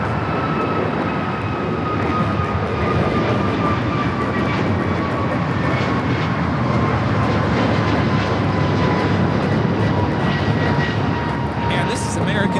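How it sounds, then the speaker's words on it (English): An American Airlines A321neo takes off from LAX, its jet engines roaring in a broad, steady wash with a slowly falling whine, heard from a distance outdoors with faint talk underneath. "this is American Airlines 1251 taking off to Miami, Florida on the A321neo"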